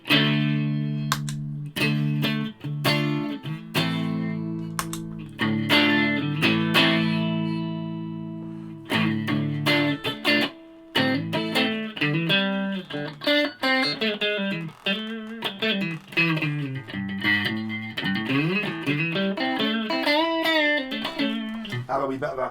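Electric guitar chords strummed through a JHS 3 Series distortion pedal set low as a slight boost, mildly overdriven and ringing, loud and close with a loose jam of changing chords and sustained decays.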